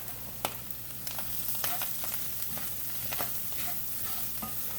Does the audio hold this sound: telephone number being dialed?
no